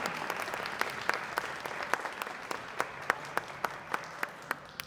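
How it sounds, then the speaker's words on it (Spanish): Audience applause after a literary event's recognition, a steady spread of clapping with individual claps standing out crisply, moderately distant and alone without speech. "Démosle un fuerte aplauso."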